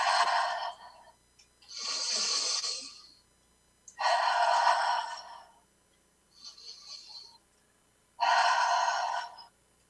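Deep breaths in and out during an acupressure tapping exercise come as five slow, airy, close swells of breath separated by quiet pauses, with no speech.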